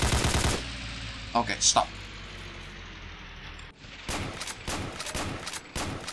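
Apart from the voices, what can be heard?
jeep-mounted machine gun firing in a video game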